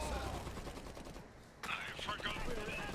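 Anti-tank gun and artillery fire in an Iron Harvest real-time strategy battle, a dense wash of game gunfire and explosions that drops out briefly at mid-clip, then returns with talk over it.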